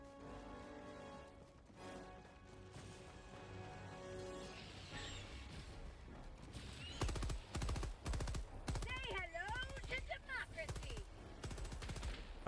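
Stalwart machine gun in Helldivers 2 rattling off several rapid bursts in the second half, loud and dense, over game ambience and effects, with a voice talking in the quieter opening.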